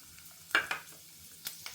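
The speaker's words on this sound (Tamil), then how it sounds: "இப்போ இந்த சாமான்களை வறுத்துக்கிறதுக்கு போட்டுடலாம்" Red chillies, ridge gourd and spices fry in oil in a pan, a faint, low sizzle broken by a few quick scraping clinks of a stirring spoon.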